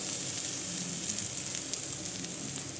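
Egg and rice frying together in a hot pan give a steady, close, dense sizzle with no pauses and no talking.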